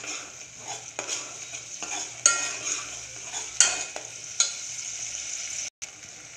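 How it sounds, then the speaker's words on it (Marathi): Ground masala paste sautéed in a pan for Puneri misal, a steady close sizzle broken by scraping stirs and a few sharp utensil clinks, with no talking. "आता आपण जे वाटण वाटून घेतलं होतं ते घालून घेणार आहोत। 1-2 मिनटं याला परतून घ्यायचंय।"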